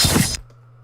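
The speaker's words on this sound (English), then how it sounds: "I'm gonna throw in this meat slice sound effect" A meat slice sound effect: a short, wet, sharp cutting burst lasting about a third of a second, then a faint low tail.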